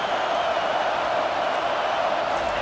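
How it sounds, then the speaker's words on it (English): Steady roar of a stadium crowd in College Football 25, a Ohio State versus Penn State game: a dense, unbroken wash of cheering and noise holding at an even level throughout, with no distinct voices standing out. "This crowd bringing the energy and noise early."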